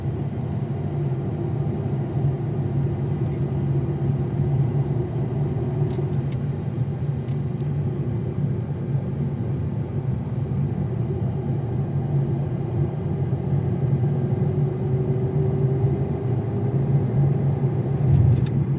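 Steady car engine and road rumble from inside a vehicle on a B-licence driving test route in Kepez, Antalya, continuous and fairly loud for the whole stretch, with no talking.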